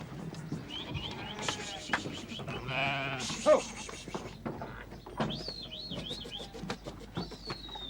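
Sheep bleat at a farm during midsummer chemical dipping against flies, several wavering cries rising over a busy background of voices, shouts and general livestock commotion.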